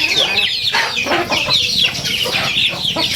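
A Brahma chicken, weakened after being pecked by its flockmates, clucks steadily among other farm fowl, with repeated bursts of close, fairly loud clucking against a busy background of poultry noise.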